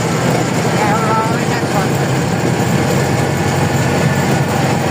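A tractor engine drones steadily on a road journey to Kathmandu, a loud continuous rumble with rattling that persists throughout.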